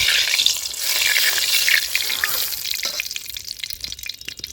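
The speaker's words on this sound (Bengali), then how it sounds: "ফোড়ন খুব ভালোভাবে ভাজা হয়ে গেছে।" Three bay leaves and four dry red chillies frying in hot mustard oil in a wok, a bright crackling sizzle that gradually settles into quieter spitting pops.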